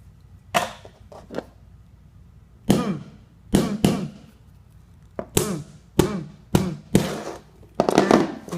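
Firecrackers set off on cement, a string of sharp, loud bangs arriving singly and in quick pairs with short quiet gaps between them, ending in a rapid cluster.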